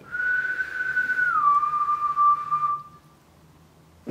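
A single long whistled tone held close and clear inside an abandoned 18th-century monastery at night, sliding gently down in pitch before fading out, with a quiet hum underneath.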